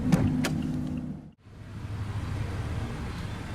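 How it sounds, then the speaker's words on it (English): Hood release on a 2017 Toyota Yaris iA with a 1.5 L four-cylinder, two quick clicks and a clunk of the latch popping, followed by a brief hush and then an idling engine hum. "Pop up the hood and check out the engine bay."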